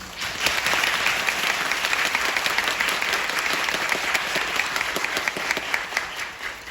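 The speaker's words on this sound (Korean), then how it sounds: "그 긴 여정을 함께해 주신 모든 분들께 뜨거운 박수 부탁드립니다" Audience applause at the closing performance of the musical Equal, a dense, steady wash of many hands clapping that holds strongly for the whole stretch without voices.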